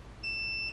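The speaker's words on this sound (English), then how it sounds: "Continuity test." Multimeter continuity beep while checking wiring connections in a school bus electrical install, a single short steady electronic tone, fairly faint and alone.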